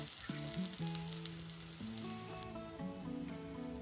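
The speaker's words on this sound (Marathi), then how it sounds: "असे आता दुसऱ्या साइडला पण खरपूस भाजून घ्यायचे आहे" A soybean chilla roasts on its second side in a pan with no added oil, giving a steady, close sizzle that runs throughout under faint stepped tones.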